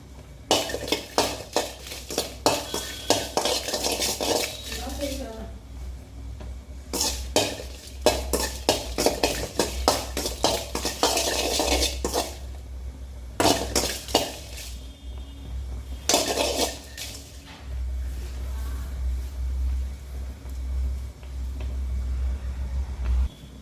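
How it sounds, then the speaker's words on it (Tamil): A spatula scrapes and clatters against a metal pan as dried red chillies roast and are stirred, in bursts of busy clinking and scraping with short pauses, over a low steady hum and no voices. "இப்போ ஒரு 7-8 காஞ்ச மிளகா போட்டு வறுத்து எடுத்துக்கலாம்"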